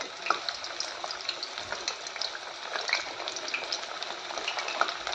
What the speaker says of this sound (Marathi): मी डीप फ्राय करून घेणार आहे